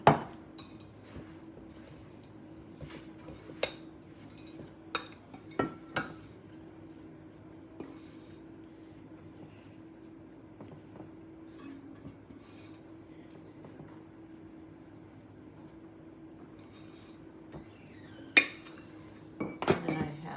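Blackberries being tossed in a white bowl: soft, intermittent clinks and scrapes of a utensil against the dish, with a few louder knocks, against a quiet room hum.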